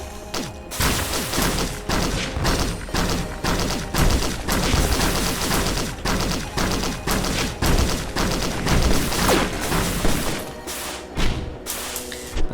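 Rapid, dense bursts of missile and weapon fire in the video game Risk of Rain, loud and sustained for over ten seconds, with booming impacts that thin out briefly near the end.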